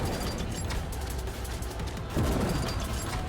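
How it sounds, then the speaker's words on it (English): A grenade launcher fires in the video game Sprawl amid a dense, loud wash of gunfire, with a heavy, booming blast landing near the end. "he released his big boy gun. See that? It's just a grenade launcher."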